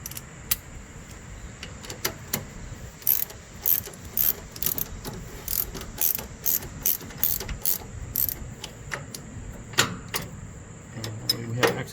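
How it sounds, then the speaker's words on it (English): A ratchet wrench clicks steadily while loosening a half-inch nut on a John Deere 180 lawn tractor, a close run of sharp metallic ticks in bursts with brief pauses and some handling noise. "I think this is a 1/2 inch. Okay, so let's loosen that one up."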